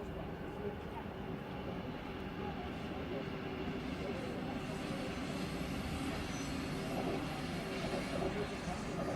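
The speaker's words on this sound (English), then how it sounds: "I just filmed that clip of" A train passing outside a window in Dresden, heard from indoors as a steady, broad rumble that holds for the whole stretch, moderately loud and without any talk over it.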